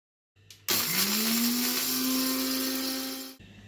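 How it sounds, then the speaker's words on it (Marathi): An electric grinder whirs loudly as it coarsely grinds roasted chakli masala spices, starting abruptly, holding a steady high-pitched drone for about three seconds, then cutting off. "आता याला आपल्याला फक्त दरदरीत वाटून घ्यायचं आहे"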